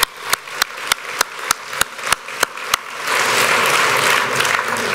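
Audience at a sports hall of fame awards ceremony claps, beginning with a run of single sharp, evenly spaced claps that swell after three seconds into loud, dense applause from the crowd.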